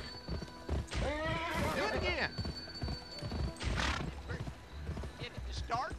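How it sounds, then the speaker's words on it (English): A spurred horse gallops with steady clip-clop hooves and lets out loud neighs in the Western video game Gun, while someone talks briefly over the riding. "Press the sprint button to spur your horse."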